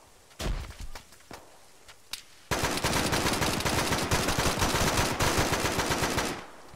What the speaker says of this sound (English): We're taking a lot of fire from the southern part of this village here.